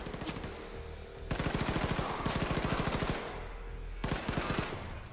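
Machine gun fire in the video game Wolfenstein II: The New Colossus, fast rhythmic automatic bursts at close range separated by short pauses, with no voices.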